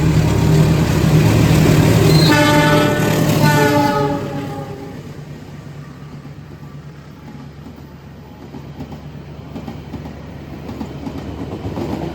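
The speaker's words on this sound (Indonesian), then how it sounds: "Ini keretanya mau silang dengan kereta api Mutiara Selatan." An Indonesian commuter train rumbles loudly nearby with a long horn blast as it crosses the Mutiara Selatan train, then the noise drops off as it passes, leaving a quieter rolling rumble that builds slightly again.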